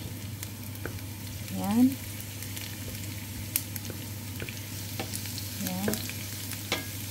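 Garlic browning in a frying pan for a Filipino breakfast, with a steady low sizzle and frying hiss throughout as it is stirred, while a voice talks intermittently over it.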